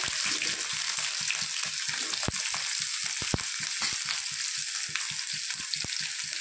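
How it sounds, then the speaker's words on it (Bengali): Onions with cumin seeds and chopped garlic frying in a pan, a steady close sizzle with rhythmic stirring taps and scrapes throughout. "এইগুলো দিয়ে আমি ভালো করে একটু ভেজে নেব। এই যে দেখুন, পেঁয়াজটা আমার একটু লাল লাল করে ভাজা হয়ে গিয়েছে।"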